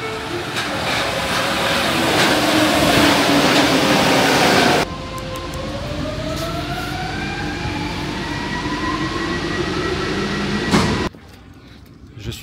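A Paris metro train at a station stop, a loud roaring rumble that cuts to quieter running with rising electric motor whines as it pulls away, then fades out abruptly.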